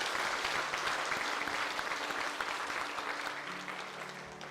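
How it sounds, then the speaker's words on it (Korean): Church congregation clapping together to welcome a new member at a Sunday service, a full steady round of applause that carries on evenly and tapers a little near the end, with no speech. "우리 함께 박수로 한번 축하하겠습니다."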